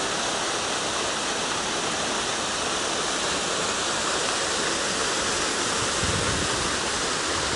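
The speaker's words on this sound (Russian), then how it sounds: "Вода в фонтане чистая, посмотрите, все почистили." A city fountain with clean water splashing steadily, a dense, even rush of spray that stays loud and close for the whole stretch, with no voices.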